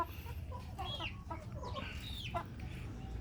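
A Brahma rooster just over three months old clucks in a few short, faint calls on a farm, set against low, steady background rumble.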